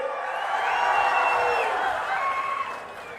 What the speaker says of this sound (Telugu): అవునంటే గట్టిగా చప్పట్లు కొట్టండి.